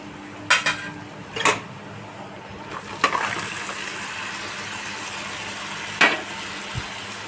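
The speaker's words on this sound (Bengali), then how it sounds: "দেখো ম্যারিনেট করে রাখা কাঁকড়াটা আমি এর মধ্যে দিয়ে দেব" Marinated crab going into a pan on a gas stove, with a few sharp clinks of utensils against the pan over a low background, then a brief sizzle and one more clatter.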